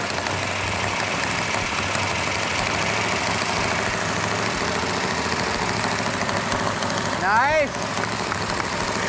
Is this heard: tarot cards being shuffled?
no